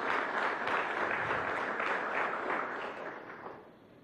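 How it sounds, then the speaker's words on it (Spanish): Applause from an audience at a meeting between the Venezuelan president and a Chinese delegation, a steady wash of clapping that holds for a few seconds and then slowly fades. "Aplausos."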